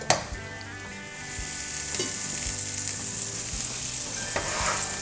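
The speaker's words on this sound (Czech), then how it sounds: "Dáme tam trochu másla." Butter sizzles in a hot frying pan as the base for a rabbit ragù, a steady close crackling fry with a few sharp clatters of stirring scattered through.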